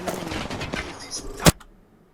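Gunshots in Apex Legends, a quick cluster of game sounds ending in one sharp, loud shot, followed by near silence.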